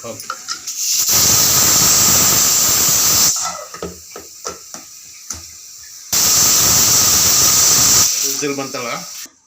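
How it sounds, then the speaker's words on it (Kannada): A mixer grinder coarsely grinding spices whirs loudly in two bursts, each running a couple of seconds, with quiet clattering and brief gaps between. "ಇದಿಷ್ಟನ್ನು ಮಿಕ್ಸಿಗೆ ಹಾಕೋಬೇಕು."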